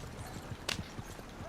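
Faint, quick rhythmic hoofbeats of a fast horse galloping in the Red Dead Online video game, a steady clip-clop pattern heard at low volume with no talk.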